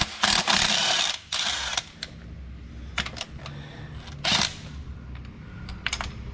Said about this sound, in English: Switching over to a 5/8 deep socket is what we use to remove the spark plugs.